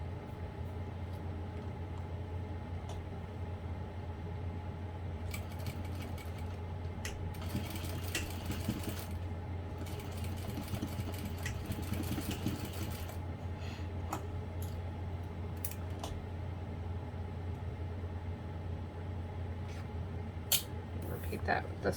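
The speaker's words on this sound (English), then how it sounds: "I'm just going to top stitch that real quick" A sewing machine top stitches a fold on a bag lining with a soft, steady hum in the background, with a few bursts of rustling and small clicks. Talk is heard throughout.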